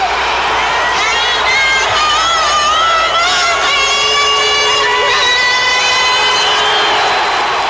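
Dense roar of a crowd at a baseball game during the national anthem, steady loud cheering and shouting with a sung voice faintly buried underneath, continuous throughout.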